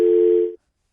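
Single tone burst of a telephone busy signal on a radio call-in line, loud and steady for about half a second before cutting to silence.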